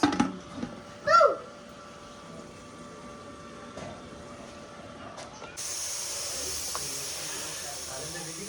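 After some faint kitchen clatter, a steady hiss of steam venting from a pressure cooker cooking potatoes starts midway and keeps going to the end.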